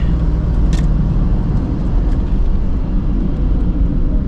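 A Ford Mustang, a rare new-generation model, pulls hard under acceleration from inside the cabin: a loud, steady low engine drone and road roar that holds at one level throughout, with no talking.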